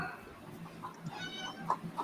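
A pet cat meows for attention indoors, giving several short, fairly faint cries spread over a couple of seconds against a quiet room background.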